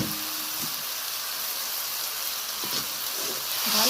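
Fried potatoes and a fish head sizzle steadily in spice masala in a pan, a continuous close frying hiss with occasional soft stirring scrapes, swelling slightly louder at the end.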